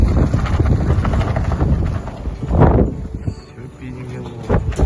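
Gusty wind from a blizzard in the Urals, in minus 29 degree cold, buffets the microphone in loud surging rushes that rise and fall, with someone speaking intermittently over it.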